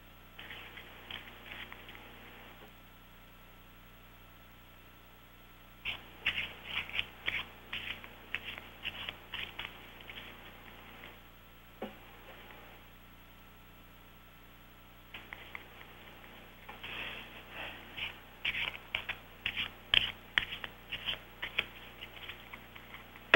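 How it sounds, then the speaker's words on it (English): A deck of playing cards being shuffled and cut by hand, heard as bursts of quick riffling clicks and patters separated by quieter pauses, close up with no talking. "Shuffled it and cut it once for good measure."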